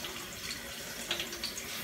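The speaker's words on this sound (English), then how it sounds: "I usually do 2 cups of rice, but I rinse off a cup at a time" Rice is rinsed a cup at a time in a sink or bowl of water, giving a steady close splashing and sloshing wash with light trickles, heard alone without talk.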